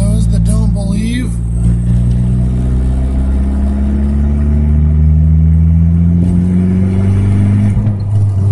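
A turbocharged car engine revs steadily and loudly close by, its tone climbing smoothly as boost spools, with a brief mechanical whine and clatter near the start.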